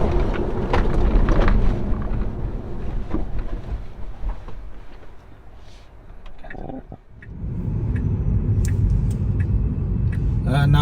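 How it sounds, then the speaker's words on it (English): A Tesla Model 3 accelerating from 0 to 60 km/h, heard from inside as a steady low road and wind rumble that swells and dips while a person talks over it. "I would like to show you the 0 to 60 time for this Tesla Model 3"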